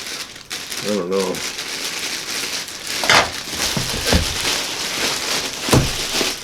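A sealed plastic bag around a large computer heatsink is cut and handled, giving continuous close crinkling and rustling with a few sharper crackles, and a person briefly speaks over it.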